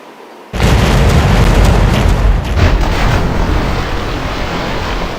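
A broadside of ship cannons firing chain shot in a naval strategy game set in the colonial Americas erupts into a loud, sustained rumbling boom with crackling bursts, rolling on for several seconds after a quiet start.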